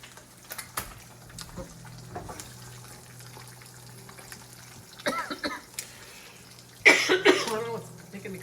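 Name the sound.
person coughing while cooking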